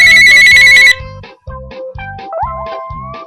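Loud electronic phone ringtone playing a melodic pattern, first a dense burst and then repeated pulsing tones with sliding pitch, close and unaccompanied by talk.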